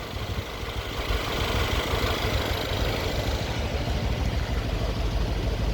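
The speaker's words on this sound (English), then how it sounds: "this sound that you hear is from the exhaust. It's supposed to leak from somewhere there, from the clamp." A 2014 Mercedes E63 4matic with about 115k km idles with an exhaust leak at a clamp, giving a steady, dense low rumble that holds level and close throughout with no pauses.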